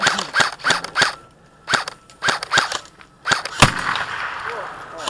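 Airsoft guns fire outdoors during a skirmish game, a series of sharp, close pops in irregular bursts with short pauses between them, while players shout nearby.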